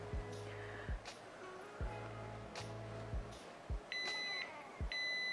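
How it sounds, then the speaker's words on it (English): Short high electronic beeps from a Hot Tools hair styling tool reaching its set temperature ring out twice near the end, steady tones over a low humming background with occasional clicks. "it's going to beep once it reaches that temperature"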